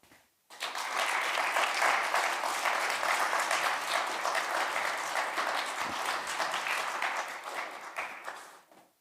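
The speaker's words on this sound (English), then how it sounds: "let's please welcome Dr. Fista on stage with a big round of applause" Dense, sustained audience applause fills the hall for about eight and a half seconds as a scientist is welcomed onto the stage at the Water Futures event, rising abruptly and holding steady before tapering off.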